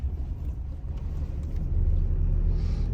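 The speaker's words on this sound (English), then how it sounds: "You're changing gears like you're driving a truck. Like I'm driving a truck." A GD6 manual bakkie drives along a quiet road with a steady low engine and road rumble that builds slightly. No one speaks.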